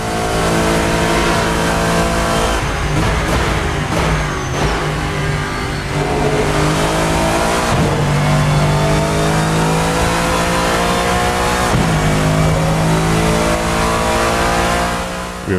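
A Lexus GT3 race car in Assetto Corsa screams loudly through repeated accelerations, its engine note rising steeply then dropping at each gear change before climbing again, sustained and close throughout.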